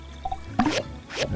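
Water being collected in the video game My Time at Sandrock gives a short liquid drip and squish effect, a couple of quick wet plops and gurgles, close and moderately loud with no talking.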